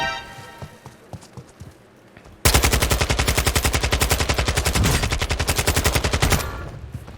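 Rapid automatic gunfire from Call of Duty Warzone bursts in loud and close after a quieter stretch, a steady stream of shots lasting about four seconds before cutting off.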